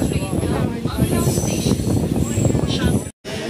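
A train sits at a crowded station, a dense low rumble of carriages mixing with the constant murmur of many voices, then a brief cut to silence near the end.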